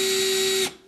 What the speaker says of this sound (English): Pull it farther to start the drill